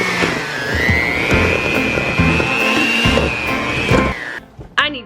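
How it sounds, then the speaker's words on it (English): An electric hand mixer whirs steadily while blending cheeseball ingredients in a home kitchen, holding a high sustained motor whine for about four seconds before cutting off, followed by a brief knock. "we're gonna take the hand mixer and we are gonna mix this together"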